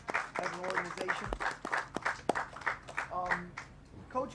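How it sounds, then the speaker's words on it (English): Brief, scattered applause from a small audience for the new coach at a Windsor Express basketball press conference, fairly quiet and thin, rising and falling with a few sharper claps. "let's give Coach a round of applause"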